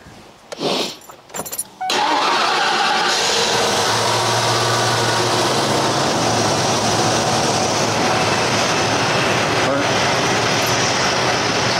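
Keys jingle briefly, then a station wagon's engine cranks and catches, roaring into a loud, steady idle that keeps running.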